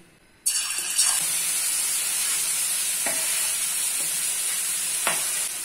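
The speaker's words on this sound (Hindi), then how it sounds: "अभी फ्लेम को लो कर देते हैं और चिकन को कढ़ाई में ऐड कर देते हैं" Chicken dropped into hot oil in a kadhai over a low flame sets off a steady, close sizzle and hiss that runs throughout, with a few stirring knocks.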